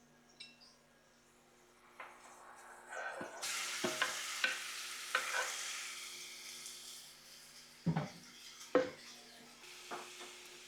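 Chicken pieces sizzling and frying in a pot for a creamy chicken stew, a steady hiss with stirring and a few sharp clinks of utensils against the pot, no talking.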